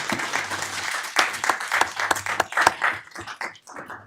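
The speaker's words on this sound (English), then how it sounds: "give her a round of applause" Applause at a Monroe city council regular meeting honoring the clerk treasurer, a modest room of hands clapping with distinct sharp claps, steady then thinning and trailing off toward the end.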